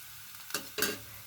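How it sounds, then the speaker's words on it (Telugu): Cumin seeds dropped into hot oil for guthi vankaya curry, two short bright sizzling bursts close by with a faint crackle continuing between them. "ఇప్పుడైతే నేను ఇక్కడ జీలకర్ర యాడ్ చేస్తున్నాను"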